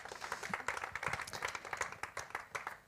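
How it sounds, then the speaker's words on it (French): Audience applause at a talk event, a lively patter of many hands clapping fairly close, sustained and fairly even throughout. "On peut l'applaudir pour l'encourager."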